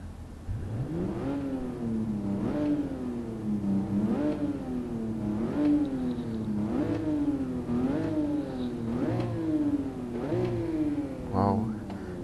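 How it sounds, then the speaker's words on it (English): A 1967 Toyota 2000GT's 2-liter straight-six engine in the GT Sport racing game, revving up and dropping back in about seven rhythmic sweeping surges, fairly loud and close throughout. "before I forget, the engine noise."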